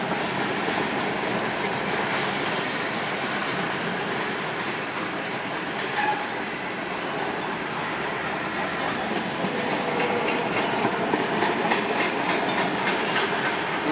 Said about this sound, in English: So you can see trains going by in any direction.